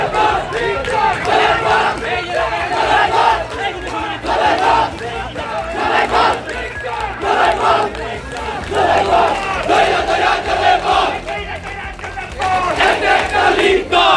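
A large crowd at a protest march in Noakhali chants rhythmic slogans in unison, loud and sustained with repeated call-like phrases rising and falling throughout.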